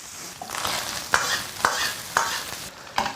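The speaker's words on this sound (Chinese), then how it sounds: "现在另起锅来一点92号的植物油，5成油温下入焯好水的牛肉，大火翻炒匀净" Blanched beef stir-fried in a wok of vegetable oil over high heat, with a steady sizzle and four sharp, evenly spaced scrapes of the spatula against the pan, loud and close.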